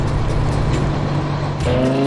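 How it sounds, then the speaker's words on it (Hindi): A truck engine in an animated cartoon holds a steady, loud rumble throughout, with a brief dip before a higher revving tone rises near the end. "शांत वादियों में इंजन की गूंज सुनाई देती है"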